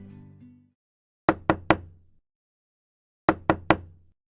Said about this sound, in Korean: 그때 문 밖에서 노크 소리가 들렸다